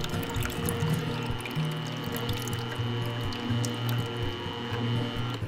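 A motorized juicer switched to reverse while juicing carrots, a steady whirring motor hum with a constant mechanical whine and faint liquid trickling, close by and without talk.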